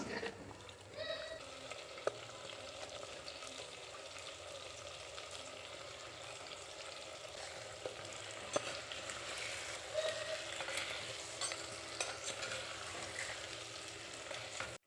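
Steady sizzling and crackling of onions and eggplant sautéing in a clay pot, close up, with occasional clinks and stirring sounds throughout.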